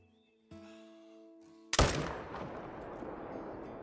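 A single loud rifle shot from a deer hunt in the video game Call of the Wild, a sharp crack with a long rolling echo fading out after a quiet stretch of ambient hum.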